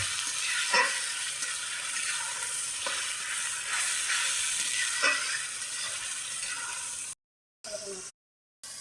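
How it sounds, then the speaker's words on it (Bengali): A ground spice paste fries in a pan for a spicy desi chicken curry. A continuous close sizzle is punctuated by a few spoon knocks, then cuts out in abrupt silent gaps near the end. "ভালো করে ভাজা নেবো"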